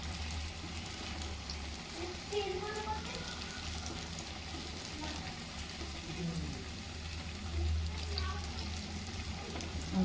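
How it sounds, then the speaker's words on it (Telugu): Corn vadas fry in hot oil, giving a steady, soft sizzle that runs the whole time with faint stirring clinks. A voice talks quietly over it. "చూడండి, చక్కగా వేగుతున్నాయి."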